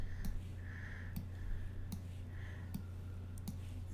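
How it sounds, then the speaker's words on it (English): A computer mouse clicks repeatedly while clicking and dragging in Flash, six crisp, evenly spaced single clicks close up over a faint electrical hum. "each time I click and drag"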